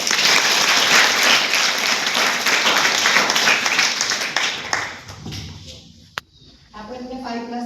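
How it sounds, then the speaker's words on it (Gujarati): Audience applause at a vocational training centre gathering, a dense burst of many clapping hands that fades out around five seconds, leaving sparse claps and a brief sharp tap. "ચલો આમને તાળીઓથી વધારીએ."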